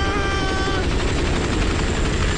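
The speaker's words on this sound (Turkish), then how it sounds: "Sadece bu helikopter var, tamam." A helicopter flies overhead in a dubbed action film, a steady loud rotor thrum and whine that holds throughout with no speech.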